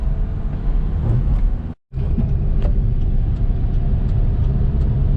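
A car accelerating after a turbo and engine cleaner treatment: a loud, steady engine and road roar with a brief cut to silence partway, then the drone resumes.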